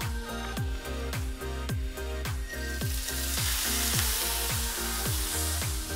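A ribeye steak sears in avocado oil in a hot cast iron pan, giving a loud, steady sizzle close up, with a regular pulsing beat running under it the whole time.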